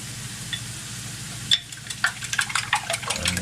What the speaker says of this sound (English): whisk our eggs one more time